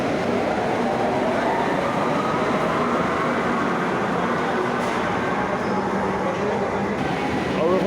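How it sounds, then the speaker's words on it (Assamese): A metro train pulls into a platform in Kolkata with a constant loud rumble and rolling wheel noise that fills the station, under faint background voices. "আৰু এখন আহি গ'ল মেট্ৰ'।"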